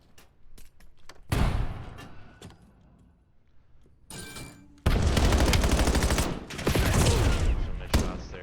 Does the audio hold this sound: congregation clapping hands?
no